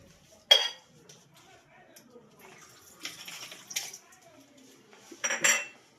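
Dishes and steel spoons being washed, with several sharp clinks and clatters spaced out among quiet stretches, water faintly in the background and voices nearby.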